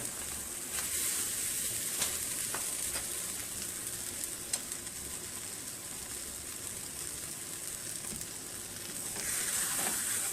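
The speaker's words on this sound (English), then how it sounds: "So just in the time that this one is frying" A tortilla fries in hot lard for entomatadas, giving a continuous close sizzling crackle at moderate volume, with a few sharper pops and a brief stirring scrape, and no talking.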